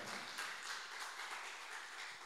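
Congregation clapping during a Pentecostal worship service in church, a soft, even wash of many hands applauding at a distance, steady throughout.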